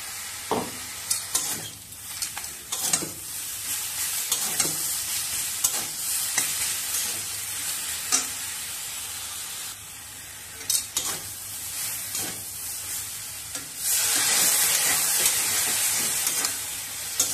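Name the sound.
onion paste frying with pumpkin stalks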